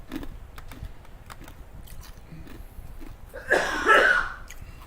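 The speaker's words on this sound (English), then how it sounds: "I'm having a coughing fit." A person coughs hard in a brief, loud burst near the end, over a background of soft keyboard typing and clicks.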